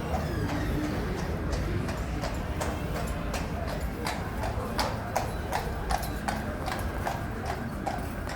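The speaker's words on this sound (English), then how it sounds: "Caballo, mira" Horse hooves clip-clopping in a brisk steady rhythm along a Dublin city street, close and prominent over low traffic and street noise.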